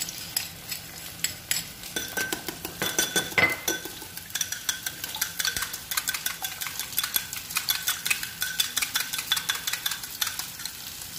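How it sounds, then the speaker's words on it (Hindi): Eggs whisked with salt and chili in a bowl: rapid, rhythmic metallic clinking and tapping at close range that continues steadily throughout, with no voices. "इसके तैयार होने तक हम अंडे में नमक और मिर्च डालते हैं और इसको फेंट देते"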